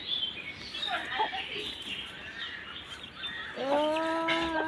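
Chickens cluck and call in the background, then a rooster crows loudly near the end, with faint voices mixed in.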